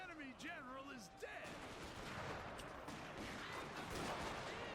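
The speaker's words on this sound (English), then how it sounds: "How many shots is he going to be able to pop?" Pistol and revolver shots in a Total War Shogun 2 siege battle, 2 versus 3, come as a clatter of sharp reports mixed into dense battle noise, with whistling tones early on and a voice speaking over part of it.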